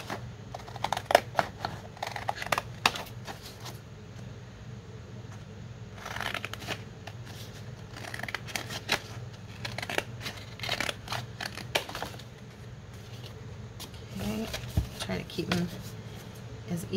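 Paper cards cut down to journal card size with scissors, giving repeated crisp snips and shuffling rustles close by, under a low steady hum with a few brief breaks.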